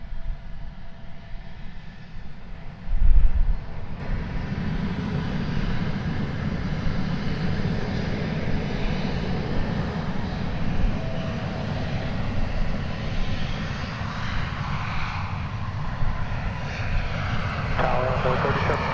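Airplane engines roar steadily as an aircraft takes off at DFW Airport, a loud broad rumble heard from a distance that swells slightly, with air traffic radio talk underneath.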